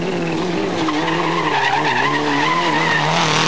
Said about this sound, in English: And sliding the Toyota around nicely, Sergio Pianazzola, still working his way up